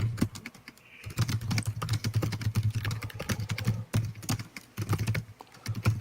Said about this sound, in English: Who's rage typing?